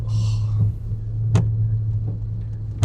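A 2004 Mercedes S-Class with electrical faults drives over a bumpy road, its engine a low steady drone broken by a few sharp thumps and knocks from the suspension.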